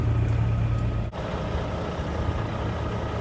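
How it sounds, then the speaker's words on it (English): A 2018 lorry engine with 83,000 miles runs at a steady idle outdoors in the rain, making a constant low rumble with no voices. "The engine sounds good."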